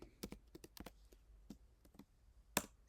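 Fingers type on a computer keyboard while entering HTML form code: about a dozen sharp, close keystrokes in irregular bursts, with one louder tap near the end and no talking.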